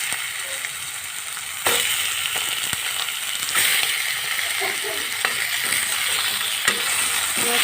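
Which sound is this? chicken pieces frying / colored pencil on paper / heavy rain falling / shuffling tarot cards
chicken pieces frying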